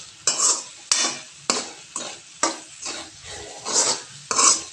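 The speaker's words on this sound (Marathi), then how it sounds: "आणि व्यवस्थित मिक्स करून घ्यायचं." Onion and tomato chutney being stirred in a pan, a spoon scraping in a steady rhythm of about eight sweeps with a faint sizzle beneath, close and clear with no talking.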